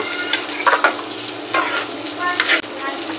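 Parboiled rice being stirred in a frying pan for khichuri, giving a few scraping, rustling strokes over a soft background sizzle.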